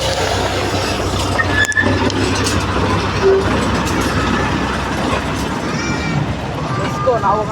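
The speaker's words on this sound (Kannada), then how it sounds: "ಟ್ರೈನ್ ಬಂತು." A train pulls into a station in Shivamogga, Karnataka, with a loud, steady mechanical rumble and rattling of carriages filling the whole stretch, close by and continuous.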